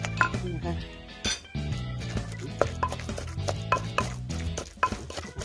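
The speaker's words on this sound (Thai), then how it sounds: "เราก็จะมาตำคลุกเคล้าก่อนนะคะ" A pestle thuds irregularly in a mortar, pounding a Thai-Lao shrimp salad with hog plum, the knocks and clinks sitting under steady background music.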